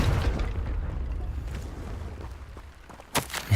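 A Confringo fire spell bursts in Hogwarts Legacy, a loud booming blast at the start that rumbles and fades, then a sharp second crack near the end.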